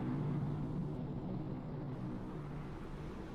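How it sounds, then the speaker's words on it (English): An airplane drones overhead in a submarine video game, a loud, steady low rumble that fades slightly over a few seconds, with no talking. "This plane will not give up."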